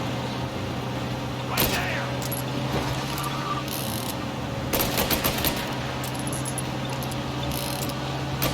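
Rapid machine gun fire in Mafia Definitive Edition, bursts of crackling shots in quick succession over a steady low engine-like drone, with someone talking over the gameplay.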